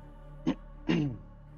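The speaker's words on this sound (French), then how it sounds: "Vous toussez dans votre main pour attirer leur attention." Two short throat-clearing coughs, the second a bit longer, over a steady low hum in a quiet room.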